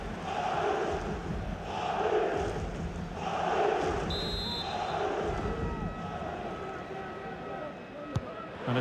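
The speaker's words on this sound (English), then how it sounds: "Well, just listen to the crowd." A stadium crowd in the FIFA 23 video game surges in broad waves of roaring during a Real Madrid vs Celta Vigo match, building toward a corner kick while a commentator talks over it.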